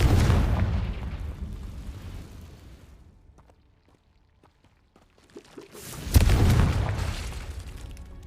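Confringo explosive spell blasts in Hogwarts Legacy: a deep booming explosion fades over three seconds, then after a brief lull with faint clicks a second loud, sudden blast erupts and rumbles on.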